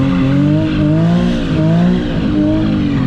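A Kia being driven in tight donuts while the driver tries to drift it on a wet surface. A loud, continuous engine drone rises and falls with wavering pitch, and tire noise runs under it throughout, with no talking.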